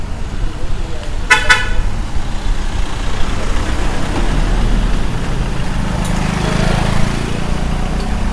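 Two quick car horn toots in a row over steady street traffic noise on Pattaya's Walking Street, with faint voices in the background.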